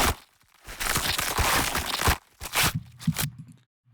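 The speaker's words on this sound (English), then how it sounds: "And these are bone crunches." Bone-crunch sound effects built for a horror haunted house: dense, loud crackling and crunching bursts run almost continuously, broken by brief gaps, ending in a few rough lower crunches before a sudden cutoff.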